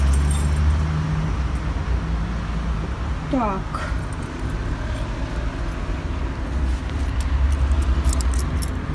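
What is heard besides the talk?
keys jangling while unlocking the front door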